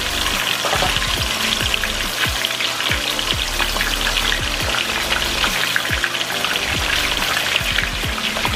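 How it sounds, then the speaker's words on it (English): A Scotch bonnet pepper sizzles in hot frying oil, a steady dense crackle with small popping bursts throughout, close and continuous with no talking. "Scotch bonnet pepper to the oil, so I'm now just gonna add it"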